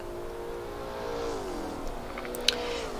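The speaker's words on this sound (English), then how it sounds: "the beautiful sound of the Lola V8 engine" Lola T70 MkII V8 race car engine in a sim racing game at Zandvoort, a steady droning tone whose pitch sags and slides as revs change, with a faint click near the end.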